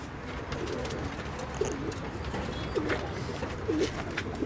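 Pigeons in a loft give soft, repeated coos, several calls spaced a second or so apart, fairly faint over a steady background hum.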